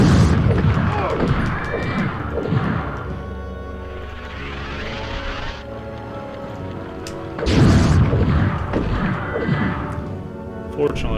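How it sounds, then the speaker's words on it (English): Shrapnel-packed exploding pumpkins burst in MediEvil, heard as loud crashing booms with clattering debris, one at the start and another around seven seconds in, with rumbling game ambience and someone talking over it. "Got our shrapnel exploding pumpkins here, and our little pumpkin monsters of doom."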